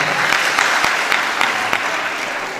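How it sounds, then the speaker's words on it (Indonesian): Audience applause for a student performer at a school martial-arts club demonstration: a dense, steady wash of clapping hands, loud and close throughout. "Tepuk tangan untuk Mas Rifat"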